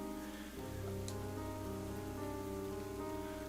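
Steady rain falling in the Ender Lilies: Quietus of the Knights video game, a continuous soft patter on surfaces with a low background hum, no voices.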